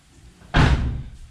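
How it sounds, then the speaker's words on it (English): A small car's driver-side door slams shut with one solid thud, close and loud, followed by a brief fading rumble. "So I'll just close this door"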